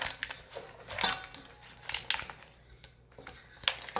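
Chocolate chip cookie dough with Hershey's chocolate chips being mixed by hand in a bowl, giving irregular soft squishes alongside scattered clinks and knocks against the bowl, close up and fairly quiet, with no talk.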